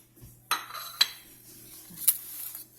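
A utensil cuts into a baked pasta casserole with Italian-style sausage and sauce, producing a few sharp clinks and scrapes against the dish, spaced apart over a quiet background.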